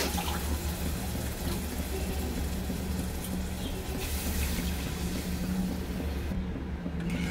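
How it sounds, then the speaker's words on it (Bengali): Water poured into a cooking pot of curry with fried fritters, a steady close rush and splash of liquid running continuously through the clip, fairly loud and without talk. "এবার আমি জল দিয়ে দেবো।"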